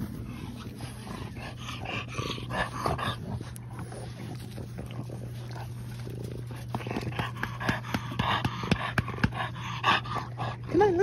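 French Bulldog puppies panting rapidly while playing outside, close by, with small whimpers and faint sounds mixed in under a low background hum.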